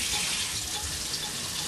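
Hot water gushes steadily from a household tap fed by a gas boiler, a close, continuous bright hiss of running water with no pauses.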